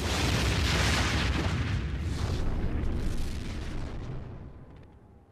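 A huge, deep explosion from a nuclear test roars out, its broadband rumble sustained for several seconds before slowly fading away, with no voices.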